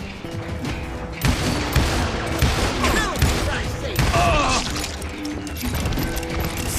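Rapid revolver gunfire from a six-shooter in the Wild West shooter game Call of Juarez: Gunslinger: loud, sharp cracks and booms crowd together over a busy, continuous game soundscape.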